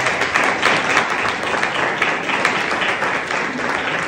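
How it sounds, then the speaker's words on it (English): A conference audience applauds steadily and fairly loudly, a dense even clapping that holds throughout. "I take that applause, Emily."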